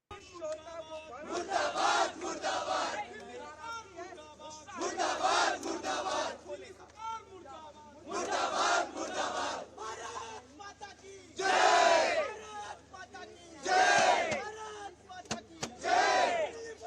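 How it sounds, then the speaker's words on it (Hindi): Students at a Delhi street protest over coaching-centre flooding chant slogans against the government in loud, repeated crowd bursts of about two seconds each, with short gaps between the rounds. "छात्र दिल्ली सरकार मुर्दाबाद के नारे लगा रहे हैं"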